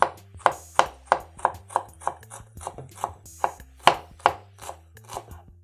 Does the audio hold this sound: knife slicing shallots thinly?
yes